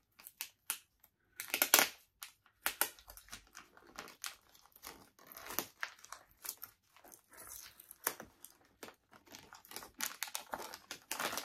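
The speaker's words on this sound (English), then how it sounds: "Are you ready for the rustling?" A blue advent calendar packet is torn open and handled up close. It gives bursts of crinkly plastic rustling and tearing that come and go irregularly, with quiet gaps between them and no speech.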